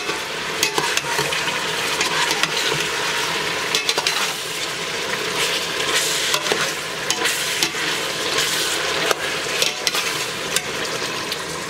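Ingredients for Persian khoresh gheymeh, a lamb and eggplant stew, are stirred and fried in a pan, with steady sizzling and repeated scraping and clinking of a spoon against the pot throughout, close and moderately loud.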